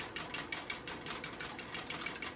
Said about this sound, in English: Whisk it really good.